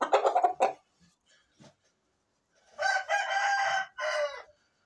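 A rooster crows loudly nearby in two separate bursts, with clucking and faint rustling in the quiet gap between them.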